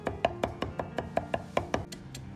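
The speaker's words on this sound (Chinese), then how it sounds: "然后再剁成蒜末。" Garlic being minced with a cleaver on a cutting board, a quick series of about a dozen sharp, close knocks in steady rhythm.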